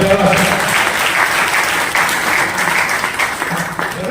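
An audience at a public gathering in Mughalsarai breaks into loud, dense applause that holds steady for several seconds, with a voice faintly heard over the clapping.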